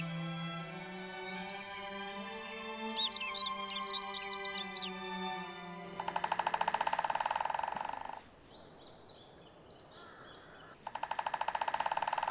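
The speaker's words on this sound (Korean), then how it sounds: "큰 오색 딱따구리 소리가 고요한 숲속을 울립니다." A white-backed woodpecker drums in a quiet spring forest on Hallasan, giving two rapid, resonant rolls of about two seconds each, preceded by bird song and a soft whistling call.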